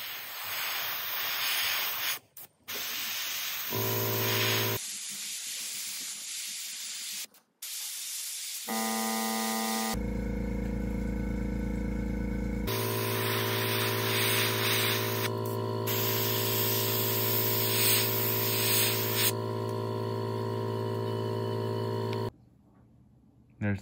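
Spray painting smoke black gills through a stencil onto a jerkbait fishing lure: a steady close hiss of spraying over a continuous humming drone, with a few brief breaks, no talking.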